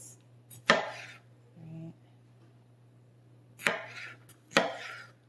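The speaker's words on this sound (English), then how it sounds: "now let's slice and dice." Several sharp knife cuts through grapes onto a cutting board, a single crisp chop followed by a pause and then two more close, distinct chops, with a faint background hum.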